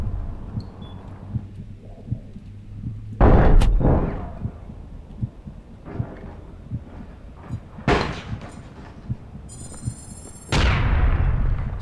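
Grenades go off during a fight in the online shooter APB Reloaded: several loud, sharp booms hit at irregular intervals, each followed by a short decay over low background game noise.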